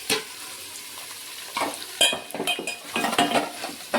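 Big and small onions frying in a pot for pounded-spice mutton biryani, a soft sizzle under irregular clinks and scrapes of a spoon stirring against the metal vessel, busier in the second half.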